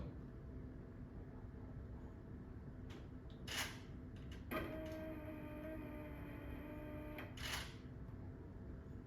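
An ArduPlane VTOL 4+1 forward motor on an AM32 DroneCAN ESC spins up partway through a motor check, settling into a steady tonal whine with layered harmonics over low background noise, with a few brief clicks before it starts.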